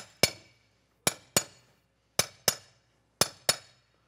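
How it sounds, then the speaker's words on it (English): Seven sharp mason-hammer blows ring out against a concrete wall block, arriving singly and in quick pairs, each with a bright metallic clink. "with your mason hammer or maul or sledge"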